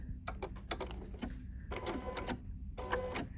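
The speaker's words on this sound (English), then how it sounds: "And we all know this is the tack down stitch. This is going to stitch down" A Bernina 880 Plus embroidery machine sewing a tack-down stitch, with quick mechanical needle bursts and pauses in an uneven rhythm, close but fairly quiet.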